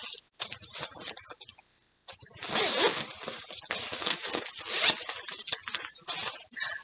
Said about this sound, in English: On the front, it has a zipper compartment.